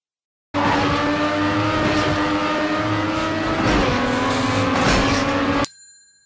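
Race car engine in TrackMania held at a steady high whine for five seconds with a brief pitch dip as it drifts through a turn, then cutting off abruptly to silence.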